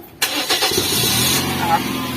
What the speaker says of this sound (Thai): สตาร์ทเครื่อง